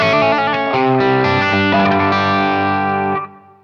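Electric guitar on its bridge pickup through a Marshall SV20H amp's treble channel, low input, playing a crunchy distorted riff of chords and single notes with a steady loud level, then cutting off into a short ringing decay.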